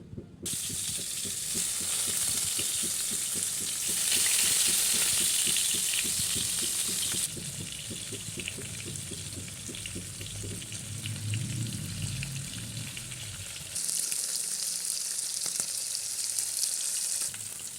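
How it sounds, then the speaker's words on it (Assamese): Pieces of fish frying in hot oil, a steady loud sizzle and crackle running throughout with occasional shifts in intensity, no voices. "এতিয়া ইয়াত মই মাছকেইপিচ ফ্ৰাই কৰি লওঁ।"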